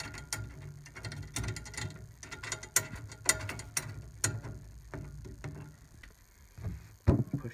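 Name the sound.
tightening snare drum tension rod into lug casing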